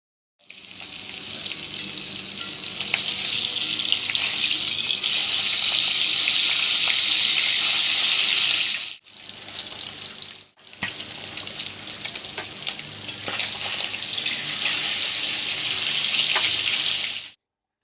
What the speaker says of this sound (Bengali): সাদা তেল দিলাম, মাছটাকে ভেজে নিলাম।